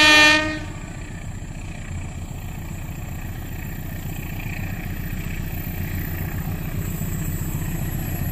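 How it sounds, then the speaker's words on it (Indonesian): A train horn blasts briefly, then the Gaya Baru Malam Selatan passenger train in Indonesia rumbles past steadily with rhythmic clatter of wheels on rails, loud and close, growing slightly toward the end. "entar lagi yang lewat kereta api Gaya Baru Malam Selatan"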